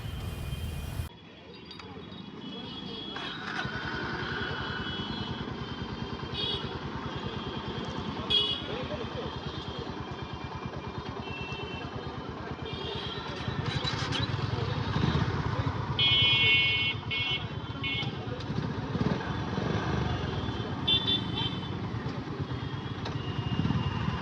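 A group of motorcycles, including a Honda BigWing event gathering and a Yamaha R15, rumbles and idles steadily nearby, with horn toots and people talking throughout.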